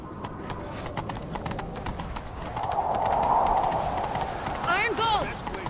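Hooves of a horse galloping in The Witcher 3, a steady rapid clip-clop rhythm under the game's ambient wind, with a brief whinny-like call near the end and no talk over it.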